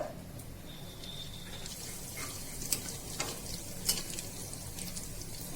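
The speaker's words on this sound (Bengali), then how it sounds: "প্রথমেই মা জোয়ানটা তেলের মধ্যে ফোড়ন দিয়ে দিল" Carom seeds (ajwain) tempering in hot oil for a khasta kachori filling, giving a faint, steady low sizzle with a few soft crackles and ticks throughout.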